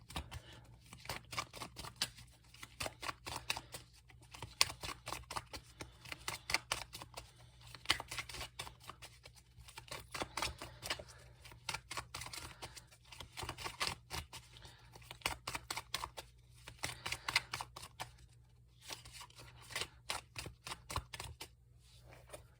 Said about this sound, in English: you can skip ahead until I lay the cards out